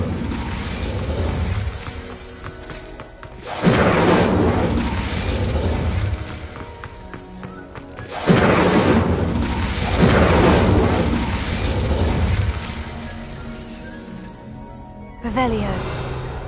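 Incendio fire spell casts in Hogwarts Legacy, three separate whooshing fiery bursts spaced several seconds apart, each flaring loudly and then dying down.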